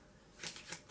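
A quick, faint riffle of an eighteen-card poker deck being shuffled, two short bursts of papery flutter in an otherwise quiet space.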